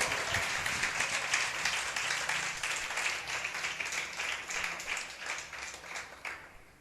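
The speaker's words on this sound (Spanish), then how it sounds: "Demos un fuerte aplauso al Señor." A church congregation claps for the Lord in a steady, rhythmic pattern of bright, even claps, moderately loud and fading toward the end.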